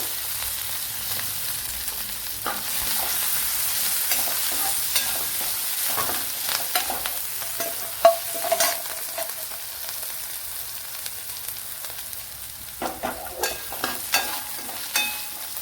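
Garlic cloves and cut green chillies frying in oil in a pan, a continuous bright sizzle with occasional stirring scrapes and clicks of a spoon.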